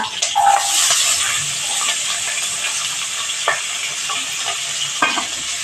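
Onion and large green chillies stirred and sautéed in a pan for breakfast vermicelli upma: a steady sizzle of frying with a few sharp scrapes and clinks of a spoon against the pan, close and continuous, with no talking.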